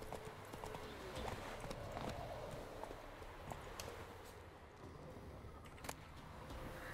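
Horse hooves in the video game The Witcher 3 clip-clop in a steady walking rhythm, moderately close, with faint bird chirps and ambient game sounds behind.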